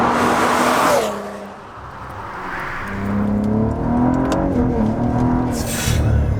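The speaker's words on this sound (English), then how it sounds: "the blow-off valves do vent to atmosphere" A 700HP Cadillac ATS-V engine revs hard with a loud turbo whoosh from blow-off valves venting to atmosphere, then drops away and climbs again through a second rising rev, ending in another sharp venting hiss.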